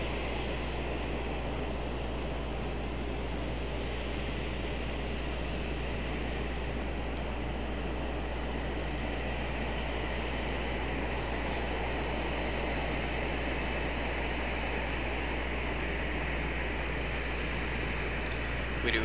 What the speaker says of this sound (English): So we do have that United taxiing over here.